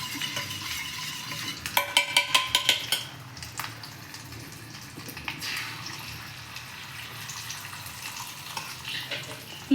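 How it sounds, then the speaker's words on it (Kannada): Egg frying in a pan, a quick run of metallic clinks and scrapes from a utensil early on, then a softer steady sizzle with occasional light taps, no speech. "ಇನ್ನೊಂದು ಇಲ್ಲೇ ಬಾಂಡಿಗೆ ಬಿಟ್ಟಿದ್ದೀನಿ ಚೆನ್ನಾಗಿ ಫ್ರೈ ಆಗಿದೆ"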